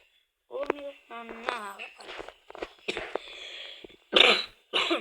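A man coughs several times in short, harsh bursts, close and loud, with throat clearing between them and a little movement and footsteps around him.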